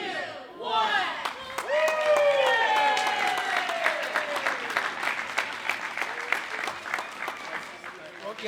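A crowd at an outdoor Earth Day ceremony applauds and cheers after a countdown reveal, with dense clapping, whoops and excited voices rising together, then easing into steadier clapping.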